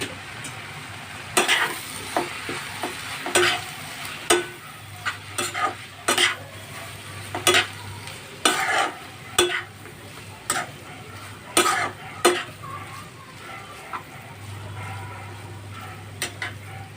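Masala Maggi noodles are stirred in a pan with red chili sauce and soy sauce. A steady sizzle of frying runs underneath while a spatula scrapes and knocks against the pan in repeated sharp strokes.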